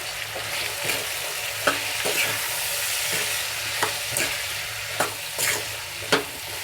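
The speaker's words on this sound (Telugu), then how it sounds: "మనము సన్నగా కట్ చేసి పెట్టుకున్న టమాటా ముక్కలు వేసుకుందాము ఒకసారి కలుపుకుందాము" Chopped tomato pieces being stirred into a frying carrot, pea and potato curry, with repeated spoon scrapes against the pan over a steady close sizzle, no voices.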